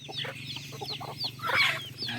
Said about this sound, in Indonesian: Ayam-ayam di alam pedesaan bersahaja.